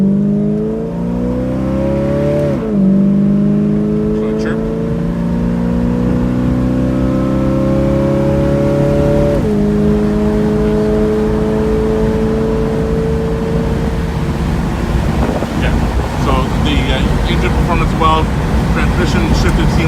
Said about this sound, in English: He's going to drop into the lowest gears and go through it manually.